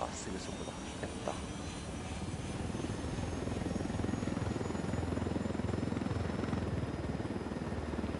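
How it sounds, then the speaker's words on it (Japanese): A helicopter flies in the video game Ghost Recon Wildlands, its steady rotor drone holding at an even, moderately loud level throughout, with voices over it. "第二のヘリ。"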